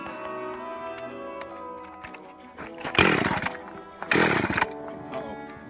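Husqvarna 257 chainsaw being cranked outdoors for ice cutting: two short bursts of pull-start rasping near 3 and 4.3 seconds over a steady background hum, with no clear sign that the engine catches.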